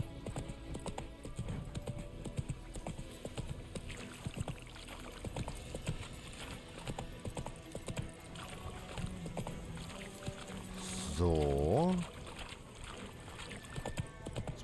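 Horse hooves clip-clop steadily through a ride in The Witcher 3 video game, a continuous rhythmic trot running under game ambience, with a brief louder whinny-like sweep near the end.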